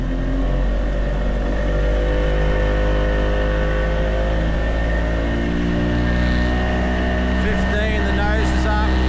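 A hydrofoil-equipped motorboat accelerates steadily across the water, its loud engine droning with a rising whine. Wind and spray noise run throughout, and a voice can be heard under the engine.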